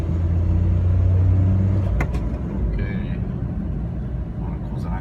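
Suzuki Every Joy Pop turbo kei van with a heavily loaded rear, its engine at full throttle: a loud, steady low droning rumble heard from inside the cabin, with a brief clack partway through and a faint high whine just after.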